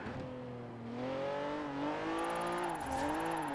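A vintage Mercedes car engine in a driving video game revs up and down through several rising and falling pitches, a smooth, moderately loud whine with no talking.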